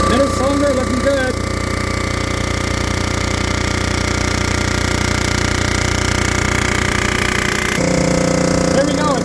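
Machining the surface of Yamaha cylinder heads, with a loud, continuous rattling chatter as the cutter passes over the exhaust port, then a shift in tone near the end; a voice talks beneath it.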